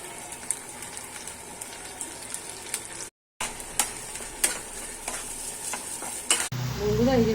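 Ginger, garlic and tomato paste sizzles and is stirred among fried onions in a pan, a steady crackle broken by scraping strokes and a short gap before a louder final burst.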